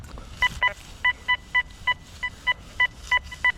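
A Deus II metal detector giving a target signal in the field, a repeated two-toned electronic beep in a steady, evenly spaced rhythm, about a dozen chirps, clear and close over faint background noise.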